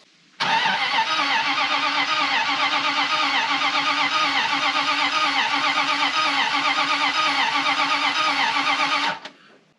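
A Dodge dump truck engine cranks steadily for about nine seconds without catching, with a rhythmic, loud, close starter churn that stops abruptly.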